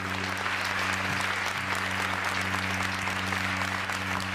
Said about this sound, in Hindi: एक बार ताली बजा के मेरा सम्मान।